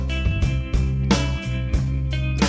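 A Christmas song with repeated chords struck in a steady rhythm over a low bass line, loud and full for a few seconds with no voice.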